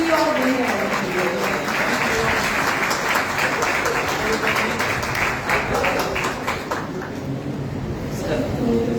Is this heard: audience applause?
yes